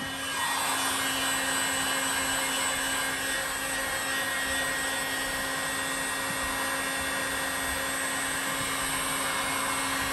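A hot air blower heats the glued joint of a kitchen worktop, a loud steady whooshing drone with a constant hum that starts up at once and holds evenly throughout, with no talking.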